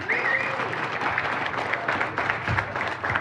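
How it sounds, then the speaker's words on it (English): Applause for a borough controller at a Dunmore council election rally rolls on steadily from a crowd of hands, fairly close and even, with no voices over it. "Let's give a round of applause for Borough Controller Andy Genovese"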